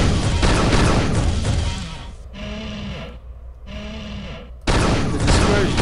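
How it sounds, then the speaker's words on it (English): Practice shots from the dispersion pistol in the game Unreal II: The Awakening, with loud bursts of energy-weapon fire at the start and the end around a quieter stretch of game ambience. "The dispersion pistol doesn't pack a whole lot of punch, but it's always there for you because it never runs out of ammo."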